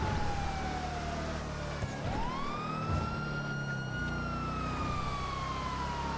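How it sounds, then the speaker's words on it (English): In GTA 5, an ambulance siren wails through city traffic, a single rising and falling tone sweeping past at moderate distance over a steady background rumble of cars, with no talking. "Oh, there goes an ambulance."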